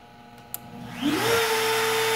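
Shop vac on a CNC router setup switched on through a relay: a sharp click, then the motor winds up over about a quarter second into a loud, steady whine.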